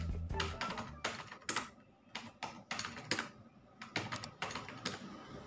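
Rapid typing on a computer keyboard while entering data into an Excel spreadsheet, a close, steady run of clattering keystrokes in short bursts with brief pauses, no talking.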